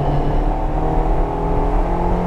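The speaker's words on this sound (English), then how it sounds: "That noise, as it kicks that extra, once it gets on that VTEC shizzle" A Honda Integra Type R engine revs hard from inside the cabin, a loud, steady rising drone with strong harmonics as it climbs toward VTEC, continuous for a couple of seconds.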